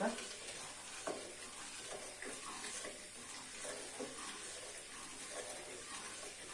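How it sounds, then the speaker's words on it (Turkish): Sugar stirred in a pot as fat melts on the stove for semolina halva, a steady sizzle with rhythmic scraping strokes of the spoon and no speech. "Şekeri erinceye kadar karıştırıyorum arkadaşlar. Yağım da bu arada eriyor ocağımda."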